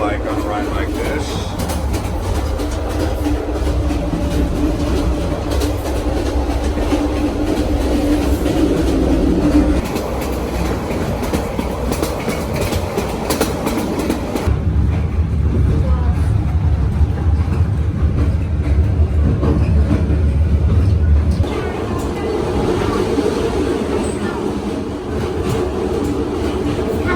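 A sleeper train runs from Saigon to Nha Trang in Vietnam, its loud steady rumble and rattle filling the carriage with deep low drones that shift partway through. Voices talk intermittently over the noise.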